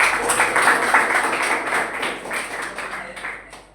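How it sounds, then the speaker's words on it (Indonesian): Children in a classroom lesson clap for a classmate named Via, a dense, steady patter of hands lasting a few seconds, with voices mixed in. "Tepuk tangan untuk Via."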